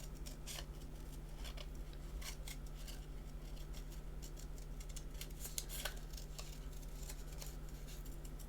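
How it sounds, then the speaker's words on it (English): Scissors cut through card in a series of quiet, repeated snips and slides, close but faint over a steady background hum, with no voices. "I'm just going to let the scissors do."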